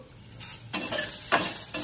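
Noodles with carrot, beans and soybean stirred in a pan, a few short scraping stirs over a soft, quiet sizzle, close and brief with no voices.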